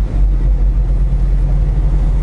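Truck engine droning steadily while driving a winter road in Wisconsin, a constant loud low hum with no breaks and no voices.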